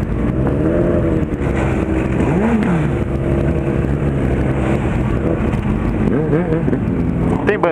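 Several motorcycles, including a Kawasaki Z800, a Yamaha MT-07-style Shred 750, a BMW, a Suzuki Bandit and a white Honda Hornet ABS, idle and rev loudly together at a big group ride meetup, engines droning steadily with repeated throttle blips.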